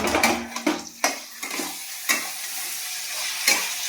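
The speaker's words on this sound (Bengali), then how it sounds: "এই সব সবজিগুলো একসাথে দিয়ে নেড়ে নেব।" Capsicum and green peas are stir-fried in a wok for veg chowmein, with loud, close sizzling and a series of sharp scraping strokes of the spatula that fade toward a softer hiss, and no talking.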